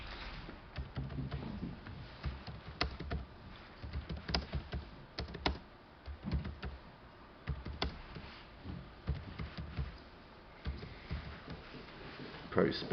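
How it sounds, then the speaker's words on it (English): Typing on a computer keyboard, bursts of soft, close clicks and key taps over several seconds, with a voice talking at times over them. "or I'm going to type that out."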